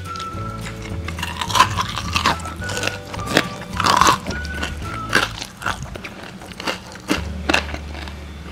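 Crispy roasted pork belly (siu yuk) skin crackles and crunches under a knife or while being bitten, giving irregular sharp snaps and crisp crackling up close over a low background hum, with no talking.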